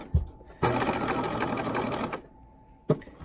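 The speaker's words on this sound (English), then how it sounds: "I'm just going to back stitch until when I turn I'm at a 1/2 inch" A sewing machine back stitches a patch pocket in one steady, close burst of rapid mechanical whirring lasting about a second and a half. Short clicks sit on either side of it.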